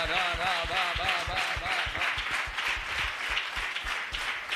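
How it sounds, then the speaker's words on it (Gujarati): A church congregation applauds at a worship gathering, rhythmic clapping under sustained background music with a melodic line that fades after the first seconds. "મોટા અવાજે તાળીઓ"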